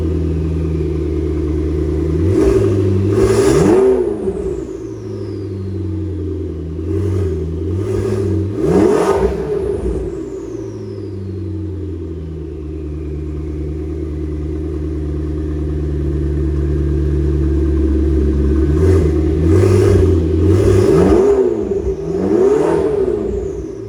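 A McLaren 12C with catless downpipes revving from idle: several sharp throttle blips rise and fall over a steady low idle, close and loud, with a quieter stretch of plain idling in the middle.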